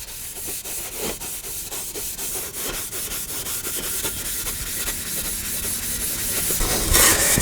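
Fine Scotch-Brite pad soaked in thinners scrubbing the metal rear guard of an Austin Healey, a close, loud rhythmic rasping of quick back-and-forth strokes.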